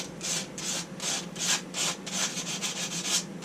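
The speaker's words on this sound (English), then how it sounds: "you hear the sounds of sandpaper behind the camera. just cleaning that gasket surface just a little." Sandpaper rubbing across a small Predator 212 engine gasket surface, a steady series of about ten short rasping strokes in an even rhythm, fairly close and alone with no talk.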